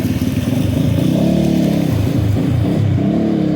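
A motorcycle engine idles and revs nearby after wading through floodwater, a continuous throbbing rumble that rises and dips slightly.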